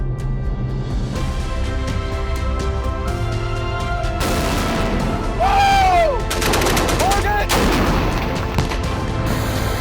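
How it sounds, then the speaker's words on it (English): Gunfire from Marine Corps combat, with sharp bursts and rattling shots standing out against a steady musical backing, loudest around the middle of the stretch. "We're taking fire."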